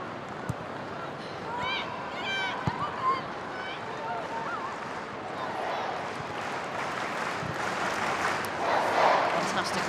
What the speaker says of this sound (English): Fantastic reception for Emma Hayes from the Stamford Bridge crowd